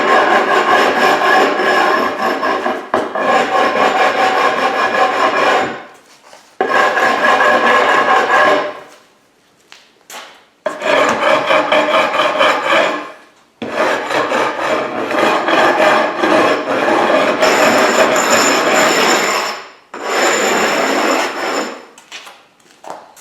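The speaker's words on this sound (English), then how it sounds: "First thing you want to do is take a rubbing stone and hit this edge." A rubbing stone is worked along the edge of a GFRC glass fiber reinforced concrete table in long, loud abrasive scraping strokes, close by, with several passes separated by brief pauses.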